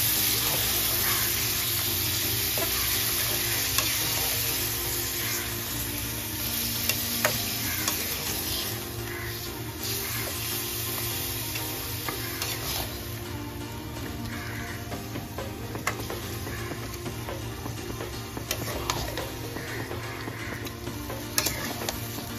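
Meat stirred through a spice mixture in a hot pan, a steady close sizzle with repeated scraping stir strokes and occasional clinks running throughout, no talking.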